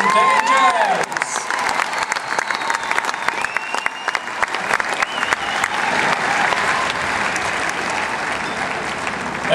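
A large audience applauds and cheers at an Equidays 2011 night horse show after the Double Dans whips-on-fire act, dense sustained clapping that stays loud throughout, with some whistles and voices mixed in.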